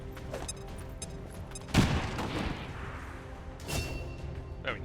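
A frag grenade in XCOM 2 detonates with a sharp, heavy blast that rolls into a decaying rumble, followed later by a second smaller burst over low game ambience.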